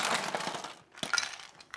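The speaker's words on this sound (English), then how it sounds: "I'm just gonna fill our glass with ice" Ice cubes clink and crackle as they drop into a cocktail glass, a few close, bright knocks in two small bursts, fairly quiet.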